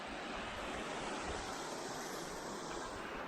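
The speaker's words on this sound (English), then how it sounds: "Beautiful brook." A brook on Panther Branch Trail in Frozen Head State Park runs steadily, giving a close, continuous rushing wash of water with no voices.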